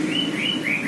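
Canary chicks about five to six days old chirping while being hand-fed: high, thin tweets repeat steadily and fairly loud, close by, with no talk.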